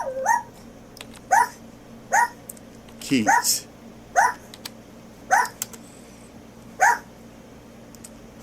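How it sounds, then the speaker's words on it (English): A dog barks in the background of a home recording, about seven short sharp barks at roughly one-second intervals, with a person speaking briefly. "Hopefully you don't hear my dog barking in the background."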